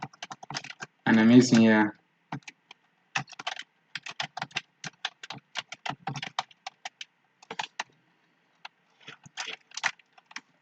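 Light clicking keystrokes on a computer keyboard come in quick bursts and scattered taps, close by, with brief speech in between.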